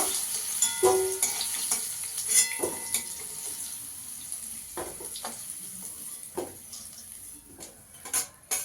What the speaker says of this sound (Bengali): একটু হলুদ দিয়ে আর নুন দিয়ে আলুটাকে একটু লাল করে ভেজে নেব